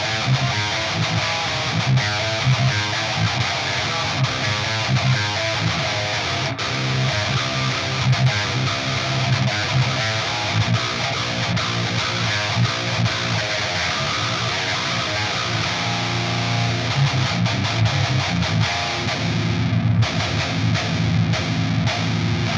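Metal electric guitar driven through free amp simulator plugins with Reaper's EQ engaged: a dense, saturated, continuous stream of distorted chugging riffs and sustained chords, loud and steady throughout with no talking.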